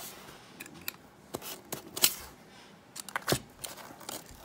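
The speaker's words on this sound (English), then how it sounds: "So let's rip it open and see what we get." A pack of January Gold baseball cards being ripped open, with a series of sharp crinkling, tearing bursts of wrapper close by, the loudest near the middle and a cluster toward the end.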